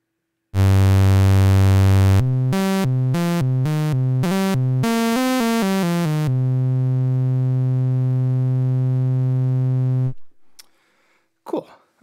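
A buzzy synthesizer tone using oscillator sync on an ER-301, played on a keyboard, held, then played in short stuttering notes with shifting harsh timbre, then sustained again before cutting off; loud and alone.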